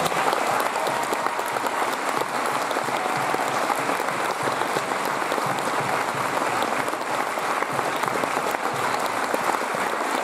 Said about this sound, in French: je vous demande un tonnerre d'applaudissements pour l'équipe de l'étrange festival.